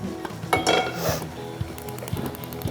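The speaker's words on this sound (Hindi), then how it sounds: "अच्छा, फ्राइंग पैन ठीक रख है।" A frying pan set down on a stovetop while cooking Meerath beef biryani, giving a close metallic clatter and a few light clinks over a faint kitchen background.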